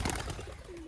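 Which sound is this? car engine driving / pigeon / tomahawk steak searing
pigeon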